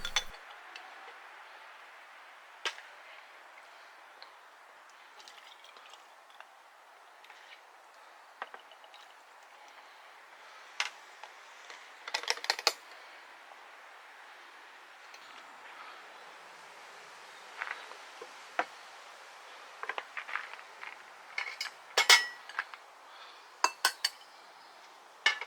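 Glass jars being filled with marrow pickle by ladle and funnel, with sparse, faint clinks and taps of metal on glass scattered irregularly over a quiet background, growing busier toward the end.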